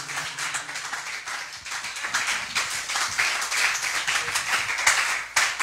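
A church congregation claps in a dense, continuous round of applause, rhythmic hand claps filling the room at moderate loudness throughout.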